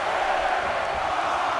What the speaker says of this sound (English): Listen to this crowd count the next one in.